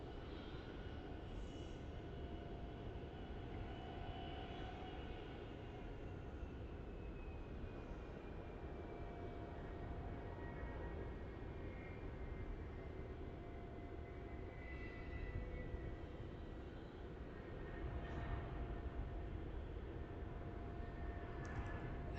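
A Jetstar Airbus A320 airliner with sharklets takes off from Melbourne Airport bound for Sydney, heard from a distance as a faint, steady jet roar with a slowly shifting engine whine, no voices.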